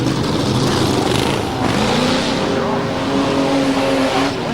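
A super modified race car roars around a speedway, its engine note rising and falling as it passes. A commentator talks over the sustained, loud motor noise.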